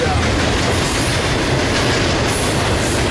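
Freight train rolling past at Fullerton during railfanning, a loud close continuous rumble of wagons with a dense rattling clatter and a high squeal of wheels on rail.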